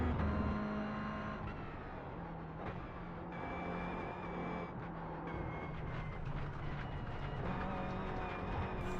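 A race car in a hard, unforgiving racing video game pushes through a qualifying flying lap, its engine droning and shifting pitch steadily as it accelerates and brakes through corners, loud and continuous with no talk.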